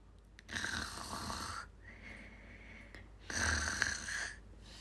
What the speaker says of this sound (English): A rumbly snore echoed from deep inside his cave.